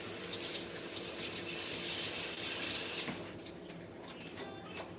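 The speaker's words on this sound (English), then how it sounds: "starting with this lettuce. I'm gonna give it a good rinse." Lettuce rinsed under a running kitchen tap, a steady close rush of water that swells while the leaves sit in the stream and then eases back, with no talking.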